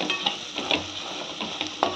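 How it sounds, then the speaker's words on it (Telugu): Cumin powder, coriander powder and garam masala being stirred in a sizzling pan for dal tadka, with repeated spoon scrapes over a continuous close fry and no voices. "ధనియాల పొడి, గరం మసాలా బాగా కలిపేసుకోవాలి"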